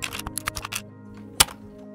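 Keys being pried off an old yellowed computer keyboard, heard as a quick run of small plastic clicks and taps, close up, followed after a pause by one louder snap.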